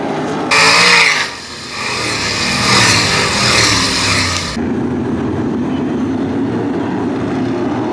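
Race cars at Attica Raceway Park roar loudly down the backstretch side by side, the engine noise swelling as they pass close, then dropping to a steadier, more distant drone.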